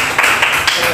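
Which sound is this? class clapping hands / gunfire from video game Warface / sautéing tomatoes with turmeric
class clapping hands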